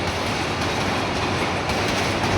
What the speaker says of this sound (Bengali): চলে এসেছে ট্রেনটি। এটি কমলাপুর থেকে ছাড়ে এবং চট্টগ্রাম উদ্দেশ্যে যাত্রা করছে।